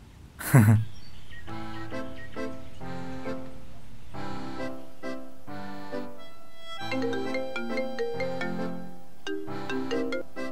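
A phone ringtone plays as a call is placed, a melodic repeating tune after a brief sharp thump at the start, clear and fairly close.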